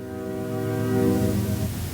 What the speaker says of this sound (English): You hear that train? You hear how loud he is?